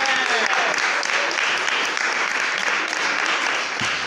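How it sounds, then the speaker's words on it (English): An audience in a stage-presence workshop breaks into loud, dense applause that holds steady throughout, close and continuous, with a brief voice near the very end. "Can you give me a huge round of applause again to start with me?"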